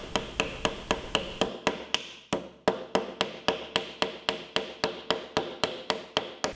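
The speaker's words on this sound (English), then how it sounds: "I could just put it in place in the tenons and just tap it all the way down in for a good joint" Wooden wedges being tapped down into the tenons of a hand-tool workbench, a steady series of about two dozen sharp, close hammer taps in an even rhythm, with no talking.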